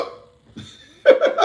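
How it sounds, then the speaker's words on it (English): A person with hiccups gives a few short, abrupt voiced hiccup bursts, close and fairly loud, with a brief vocal sound between them. "You get hiccups in the middle of trying to say something important."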